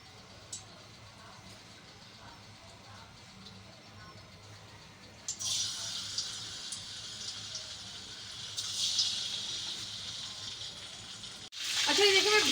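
Meatballs browning in hot oil in a pan, a steady sizzle that turns louder and brighter partway through and swells again near the end, with soft kitchen sounds underneath.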